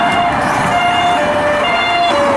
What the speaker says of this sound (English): Some of these cars have sirens, not all.